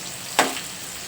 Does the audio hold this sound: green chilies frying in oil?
yes